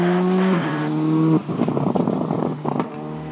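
A Skoda Fabia R5 rally car on asphalt: a loud, steady engine note drops as the driver shifts down, then gives way to choppy, crackling bursts on the overrun before the engine pulls again.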